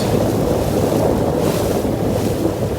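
Steady wind rushing across the microphone over the broad wash of choppy water lapping on Loch Lomond, Scotland, continuous and fairly loud with no voices.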